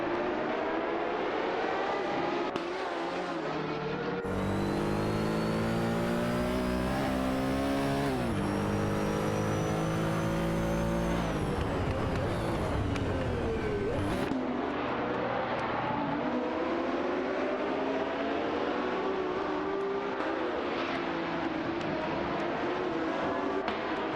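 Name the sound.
race car engines in video game, Lola and Porsche 917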